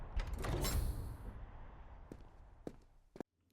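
A door creaks open with a scraping, grinding mechanical sound over about a second, followed by quieter rumbling and a few sharp clicks and knocks before it stops.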